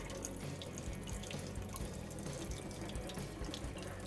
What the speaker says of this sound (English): I'm gonna fill this bowl full of water.